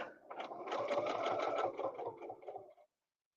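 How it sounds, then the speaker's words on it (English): A sewing machine runs a quarter-inch seam, a close, rapid burst of stitching that rattles steadily for nearly three seconds and then stops. "I'm going to do 1/4 inch stitching away from everything"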